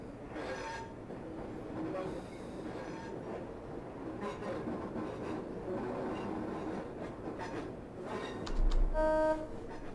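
A Class 142 diesel train in Train Simulator runs on the Heysham to Carnforth line via Lancaster, giving a steady loud rumble and wheel clatter, with a brief tonal squeal or toot near the end.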